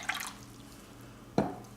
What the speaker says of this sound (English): I'm gonna add a little water so it comes up to the line